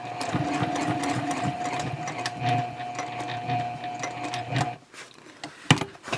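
A sewing machine stitches diagonally across the boxed corner of a fabric tote bag, with a fairly quiet, continuous rattling needle mechanism and a steady hum, ending in a few clicks and a sharper knock.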